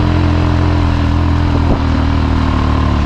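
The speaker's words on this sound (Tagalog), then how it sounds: "Matibay itong motor na to." A motorcycle engine runs steadily nearby at a constant, loud idle-like drone, with a brief clunk midway and no talking.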